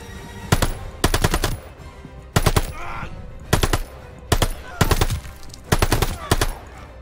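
Automatic gunfire in Call of Duty: Vanguard comes in loud, sharp bursts. Roughly eight short volleys repeat at a fairly even pace, with brief gaps of quieter background between them.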